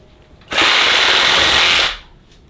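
A harsh, loud burst of a saw cutting through wild boar bone, lasting about a second and a half, a rough grinding cut that starts abruptly and fades out.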